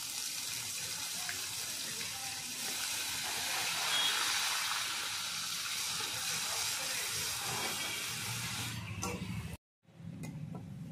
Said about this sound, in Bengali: এরপরে দেবো ছোট্ট একটা পেঁয়াজ বাটা